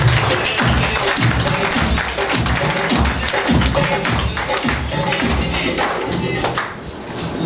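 Applause from a seminar audience, loud and dense, rolls on steadily for several seconds with many hands clapping at once before easing slightly near the end.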